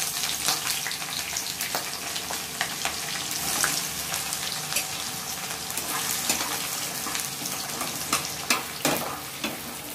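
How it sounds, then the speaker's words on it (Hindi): Bay leaves and onions sizzle loudly in hot oil while a masala chicken is started, a steady close crackle with scattered sharper pops and occasional scraping stirs running throughout. "तेल मेरी गर्म हो चुकी है, पहले ये तेज पत्ते डाल देंगे, उसके बाद इसमें ऐड करेंगे अनियन।"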